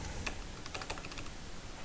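Keys tapped on a computer keyboard while entering Ruby on Rails code, a short run of soft clicks spread across the moment, fairly faint and close, with no talking over them.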